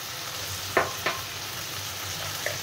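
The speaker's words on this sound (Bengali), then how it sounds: "আমরা একটু মাছগুলোকে উল্টে পাল্টে ভেজে নেব।" Small puti fish fry in oil in a pan with a low, steady sizzle, broken by a few sharp spatters and stirring clicks.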